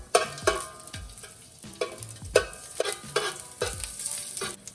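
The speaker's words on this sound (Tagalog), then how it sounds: "Ilalagay ko tong olive oil para igasa yung onions and garlic" Garlic and onions sautéing in olive oil for an oxtail curry, a continuous close sizzle punctuated by repeated clanking stir strokes roughly every second, fairly loud and without speech.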